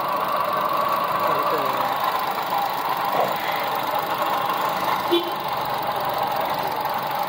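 A steady engine idle hums throughout, with a low, even drone and slight knocking texture, close by and continuous.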